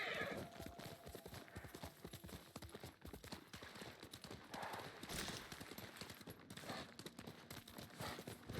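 A horse in Ghost of Tsushima trots with steady clip-clop hoofbeats and whinnies, heard amid game ambience with someone talking quietly over it.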